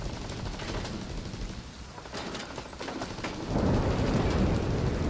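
Rapid automatic gunfire from a deployed turret in The Division 2, a dense stream of sharp shots with distant crackling and a louder burst near the end, no voices.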